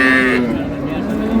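A cow moos once, loud and close, at a busy cattle market, the low drawn-out call fading as market voices murmur underneath.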